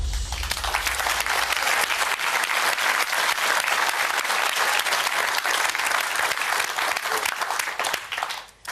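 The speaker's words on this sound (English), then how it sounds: "We've all stopped clapping." Game show studio audience breaks into sustained loud applause, dense clapping from a large crowd holding steady before tapering off at the end.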